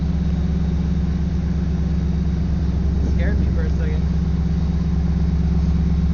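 A boosted V8 car engine idles with a steady low rumble throughout during a dyno session, while a person talks briefly over it partway through.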